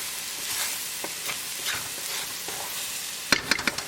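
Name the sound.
spices cooking in tadka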